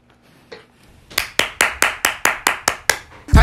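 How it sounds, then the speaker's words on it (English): One person clapping hands, about nine sharp, evenly spaced claps at close range after a brief quiet lead-in, ending in a sudden loud burst. "I gave a round of applause to myself."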